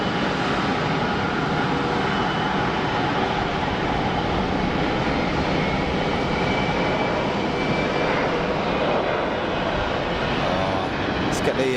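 At Geneva Airport, an Air China A330 spools up its jet engines during tug pushback, giving a steady, loud, broadband roar that holds throughout with no breaks.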